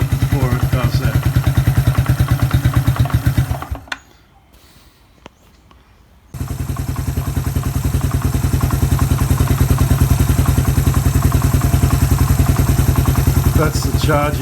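A Suzuki Quad Runner 250 quad bike idles with a rapid, even low thumping. The engine cuts out for a couple of seconds midway, then runs again at the same steady idle, close up.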